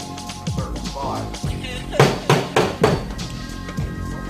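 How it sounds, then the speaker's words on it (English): Several sharp hammer blows ring out in quick succession on dented car body metal, loud and close, over a faint background voice and hum. "Don't hammer it too much to make it another dent."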